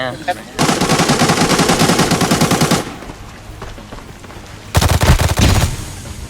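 Rapid automatic gunfire in the video game Arena Breakout rattles in a long sustained burst, pauses, then another loud volley erupts, close and harsh.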